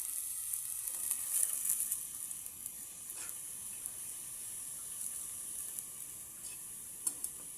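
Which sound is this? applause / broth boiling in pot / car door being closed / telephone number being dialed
broth boiling in pot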